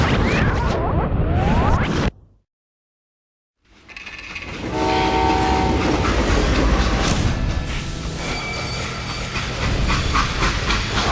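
A steam train in the Western shooter Call of Juarez: Gunslinger rumbles loudly with clanking wagons and hissing steam, a brief silent gap, then sustained rolling noise with a whistle-like tone.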